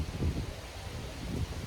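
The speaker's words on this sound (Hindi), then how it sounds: "बहुत तेज हवा चल रही है" Strong wind blows across a rooftop, a rough rumbling buffet that swells in two gusts, fairly close and without speech.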